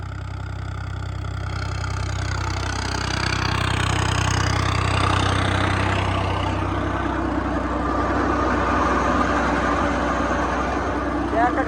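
A diesel tractor engine idles with a deep steady rumble, rising slightly midway, during potato planting, while someone talks over it.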